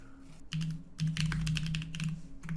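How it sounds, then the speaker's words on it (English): Quick bursts of clattering keystrokes on a computer keyboard, close and brisk, run over a steady low electrical hum with short pauses between flurries. "I moved my keyboard, now I can't type at all."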